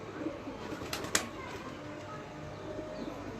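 Pigeons of a breeder's flock coo softly in the background, a low, faint murmur with a couple of brief flutters or taps, no voices heard.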